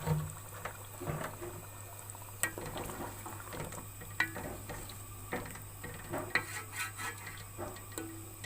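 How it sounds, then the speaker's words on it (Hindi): Water with fried potato and arvi masala comes to a boil in a pot, faint bubbling and simmering with scattered light clinks and taps of utensils against the pot. "अब इसको थोड़ा बॉयल आने देंगे।"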